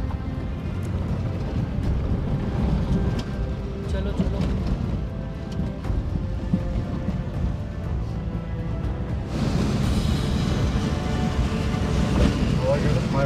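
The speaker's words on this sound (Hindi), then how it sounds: "काफी तेज हवा चल रही है" Strong wind roars and buffets steadily along a mountain road between Tabo and Kaza in Spiti during a motorbike trip in light rain, a loud continuous rush that swells louder near the end, with talking at times.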